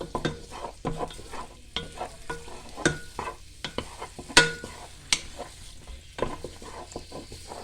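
Chopped onions sizzling in hot oil in a pan, a close crackling fry broken by frequent sharp stirring scrapes and clinks of a utensil against the pan.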